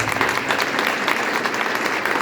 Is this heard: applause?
yes